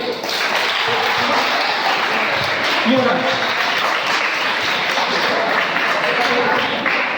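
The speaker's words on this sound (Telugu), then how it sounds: "చప్పట్లు కొట్టండి" Clapping from a school gathering, a continuous loud burst of many hands clapping together at a steady level, with a voice briefly heard.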